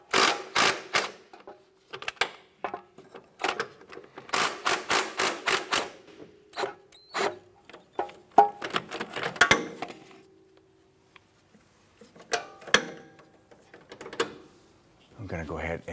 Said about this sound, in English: When we loosen this, the subframe will slowly lower down a little bit.